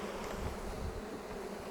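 A honey bee swarm buzzing around a Flow Hive makes a close, dense, continuous drone that holds steady from start to finish.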